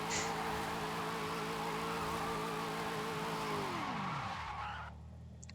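Muscle car in the racing game Forza Horizon, engine roaring loudly with tire squeal and skidding, then the revs drop sharply and the sound cuts off near the end.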